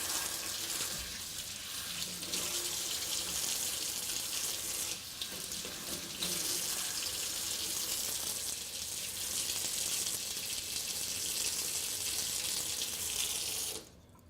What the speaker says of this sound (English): I'm washing the chicken with cold water.